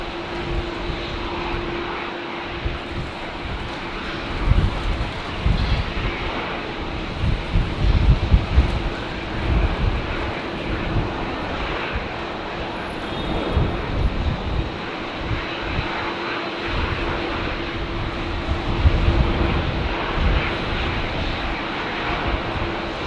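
A passenger airliner takes off at Brisbane Airport on a windy day, its broad jet-engine roar holding steady and loud for the whole stretch, with gusts of wind buffeting the microphone.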